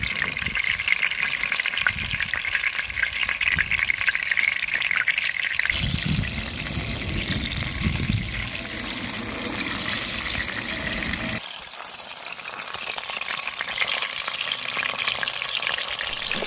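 Tilefish frying in a coated pan outdoors, a continuous loud sizzle and crackle of hot oil with occasional stirring shifts, no voices.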